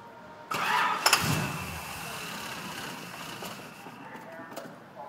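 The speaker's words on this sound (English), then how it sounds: "let's start it up here." A 1972 Chevrolet Corvette C3 engine cranks and catches with a sudden loud burst, then settles into a steady, rumbling idle close by.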